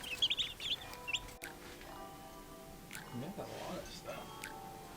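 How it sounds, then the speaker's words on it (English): Chickens and ducks cluck and chirp nearby while people talk over them, the bird calls coming in short scattered bursts. "Little chickens and ducks."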